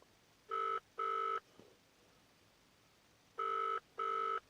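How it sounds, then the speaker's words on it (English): A telephone ringing tone on a call placed from an Atongm W008 phone: two short double rings, a pause, then another double ring, clear and steady. "And you can hear it's ringing."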